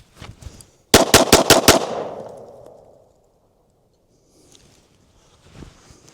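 Rapid string of six pistol shots fired after a concealed-carry draw at a target range, loud, sharp and evenly spaced, with a ringing tail fading out, then near silence and faint handling noise.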